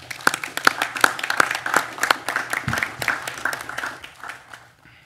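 Applause at a board meeting for a security team: distinct, fairly close hand claps in an irregular rhythm that thin out and fade toward the end, with no talking.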